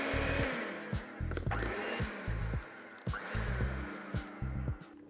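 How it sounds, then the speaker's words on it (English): An electric hand mixer beats banana bread batter at low speed, a buzzing motor running in short bursts that start and stop about every half second, close and fairly loud. "I'm gonna make use of my mixer again. Just a little bit and lower speed."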